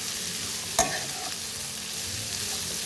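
Mixed vegetables stir-fried in a pan for no-onion, no-garlic paneer fried rice: a soft continuous sizzle with one sharp clack of the spatula against the pan, close and quiet, no talking.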